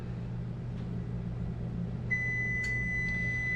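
Kitchen oven signalling it is preheated while baking mayonnaise muffin rolls, a steady electronic tone that starts partway through and holds over a constant low appliance hum, with a couple of faint clicks.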